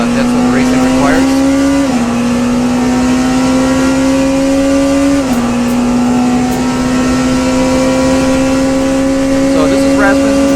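Ferrari race car in the Le Mans Ultimate sim passing another car at Le Mans: a loud, steady engine drone with gear shifts near 2 and 5 seconds, sustained throughout with talk audible over it.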